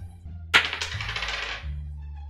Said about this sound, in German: Ich werfe eine Münze.